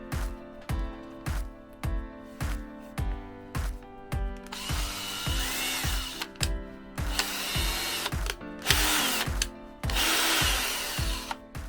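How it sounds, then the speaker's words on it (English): A Ryobi cordless drill runs in short repeated bursts, trigger pulses starting and stopping in a regular rhythm, then longer whirring runs as it bores a hole, close and fairly loud with no talking. "Let the drill do the work, don't force it."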